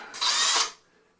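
A power drill spins briefly to back screws out of a sprinkler valve solenoid, a single close, whirring burst of about half a second that quickly fades away.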